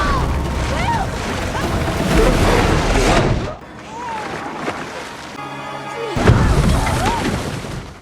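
Booming blasts of dynamite wrapped in meat go off in water in a shark film, loud rumbling explosions with splashing and crashing in two long surges separated by a brief lull, with a musical score underneath.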